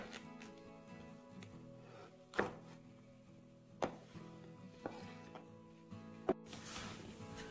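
A knife makes half cuts through okra pods on a board, giving four or five sharp, separate chopping thunks spaced a second or so apart against a low background hum. The sound is close and fairly quiet, with no talking.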